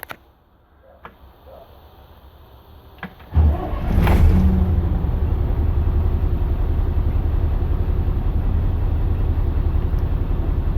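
An Autosan H10 bus engine revs up after a few light clicks and knocks, then settles into a loud, steady, rumbling drone that fills the rest of the clip close to the microphone, with no talk.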